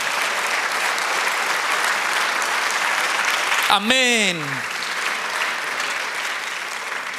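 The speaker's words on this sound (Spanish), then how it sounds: "Dele un aplauso al Señor." A church congregation applauds in a steady, dense wash of clapping throughout, with a voice briefly calling out over it partway through.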